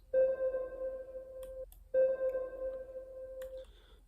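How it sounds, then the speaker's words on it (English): A pocket synth one-shot plays twice, each a sustained, clean pitched tone lasting about a second and a half with a bright attack, separated by a short gap, alone and fairly close. "I started with this pocket synth shot."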